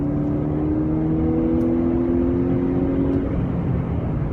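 A 2015/16 Ford Fusion with the 2.0 engine accelerating from inside the cabin, a loud, steady engine drone and road rumble with rising tone, heard alone without talk.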